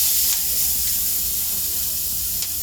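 Steak searing in a hot pan, a steady bright hiss and crackle of sizzling fat that runs continuously and close, with a few sharper spits rising through it.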